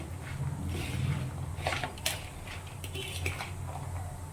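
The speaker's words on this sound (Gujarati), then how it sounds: "હવે એકદમ સરસ રીતે મિક્સ કરી લેશો" A spoon clinks and scrapes against a bowl as bhel chaat is mixed, producing steady close-up clatter and light rustling of the puffed-rice mixture with no talking.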